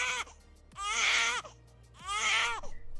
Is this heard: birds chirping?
no